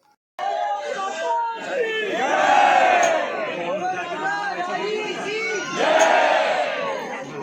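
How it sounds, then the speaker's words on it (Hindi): A large crowd of devotees gathers outside Nidhivan in Vrindavan, a loud continuous roar of many voices with chanting and shouts that swell twice, near and dense throughout. "आप देख सकते हैं यहाँ पर निधिवन के बाहर भक्तों की कितनी ज्यादा संख्या में भीड़ आई हुई है"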